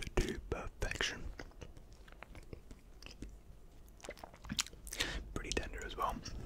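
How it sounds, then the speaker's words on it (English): Close, intimate chewing and nibbling mouth sounds from an ASMR eating session on tender seasoned food: wet clicks, soft bites and smacks in irregular rhythm, with quiet whispery breaths between. "that's why I'm chewing quite a bit"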